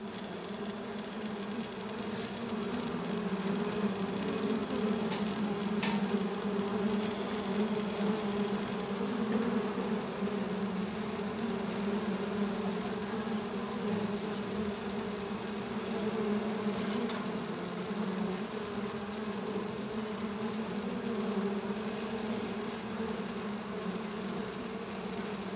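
Honeybees swarming around beehives on a Paris rooftop, a dense continuous buzz from many insects holding steady and close for the whole stretch, with no talking.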